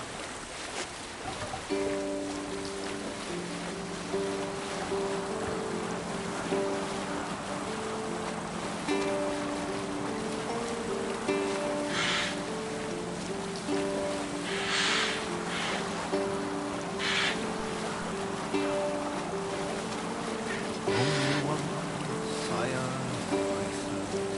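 A Viking longship under sail on the water in Assassin's Creed Valhalla, with a steady wash of waves and wind carrying a sung shanty and a few sharp splashes or creaks, all fairly soft and continuous.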